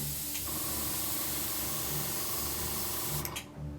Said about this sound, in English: this actual airbrush, as you'll notice when I'm using it, if I just press the button down now to start the air